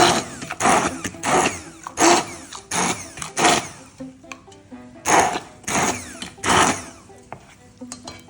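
A hand blender is pulsed in short bursts through a lightly blended spinach and coconut dish, about ten rough whirring pulses in an irregular rhythm with brief pauses and clinking between them.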